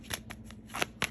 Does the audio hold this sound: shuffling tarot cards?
yes